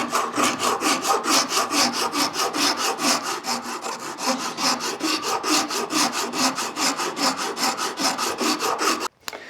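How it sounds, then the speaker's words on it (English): A Shinto rasp carves hardwood vise handles with fast, rhythmic scraping strokes, about four per second, close and steady for nearly ten seconds before a brief stop, with no talk. "one of my favorite tools, the Shinto rasp. I'm just going to carve away at this and we'll get a kind of an organic shape."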